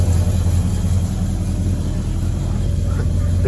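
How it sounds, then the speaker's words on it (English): A 1972 Chevelle Malibu convertible idles cold with a steady, deep rumbling exhaust note, close and continuous with no revving, no other sounds over it. "Nice exhaust note."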